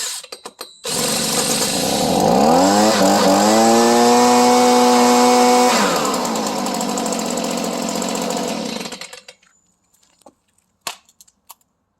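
A Stihl chainsaw, already slightly warm, fires up and revs, its engine pitch climbing then settling into a loud steady idle for several seconds before cutting out, followed by a few faint clicks.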